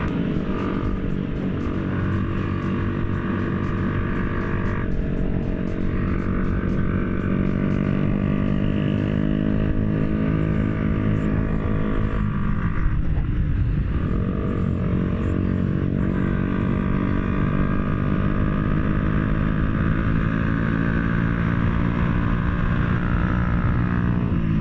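A Yamaha MT-125 motorcycle fitted with an aftermarket exhaust runs at full throttle, a steady loud engine drone with dense harmonics and a brief dip midway, continuous for the whole stretch with no talk.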